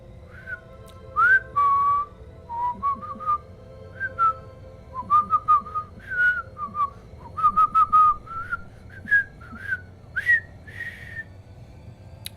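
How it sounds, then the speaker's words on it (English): A person whistles a meandering tune in short bright phrases with gaps between them, close and clear over a low steady background hum. "Been a while since I've whistled, actually."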